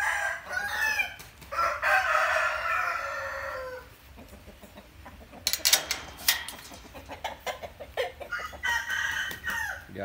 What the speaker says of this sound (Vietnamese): Gà tơ ha,